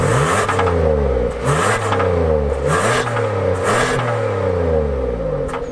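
A Subaru engine paired with a continuously variable transmission revs loud and close, rising and falling in several long sweeping pulls with a whirring drone and no talk.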